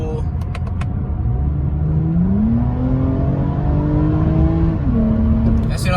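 A 2020 Toyota Camry TRD engine revs hard under acceleration, its pitch climbing steadily and then dropping back at a shift, loud and close from inside the cabin, with a steady road rumble underneath.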